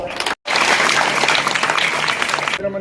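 A crowd claps for the education minister at a school event, a dense burst of applause that starts after a brief silence, stays steady for about two seconds and then cuts off.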